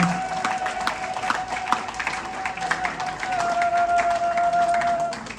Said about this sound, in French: je vous demande d'applaudir la carrière riche en couleurs de l'artiste Chéri Chérin